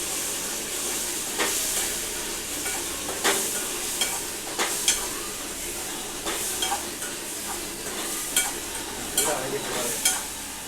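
Prawns in masala are stirred and fried in a pan, with a steady sizzle under repeated scraping strokes of a spatula at close range.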